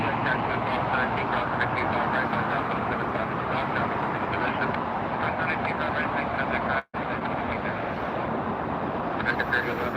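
A LATAM airliner taxiing at LAX at night gives a loud, steady, close broadband roar that runs the whole time, broken only by one brief dropout near the end.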